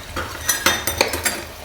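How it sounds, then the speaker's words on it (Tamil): Mutton head pieces with green chili sautéing in a pan, a spatula stirring in a few quick scraping strokes over a light, low sizzle. "நல்லா வதங்க ஆரம்பிக்குது ஃப்ரெண்ட்ஸ்"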